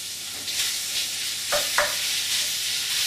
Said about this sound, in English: we got the bacon crispy and rendered, and I'm going to add the beef